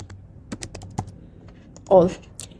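Sparse keystrokes on a computer keyboard at a desk, a handful of scattered clicks with one louder burst near the end, faint and close.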